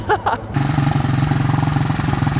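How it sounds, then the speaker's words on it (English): A Honda quad's electric starter whirs briefly, then the engine catches and settles into a steady, loud, close idle with an even pulsing rhythm. "the quad is an electric start, so it starts literally right up every time"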